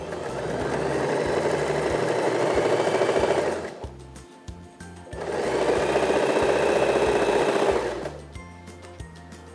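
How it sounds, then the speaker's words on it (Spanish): A sewing machine stitches a zigzag seam with long zigzag width and stitch length around 3, running in two steady, loud, close bursts with a short pause between them. "vamos a utilizar el zigzag de la máquina hasta la parte más larga del zigzag y a una puntada más o menos de 3"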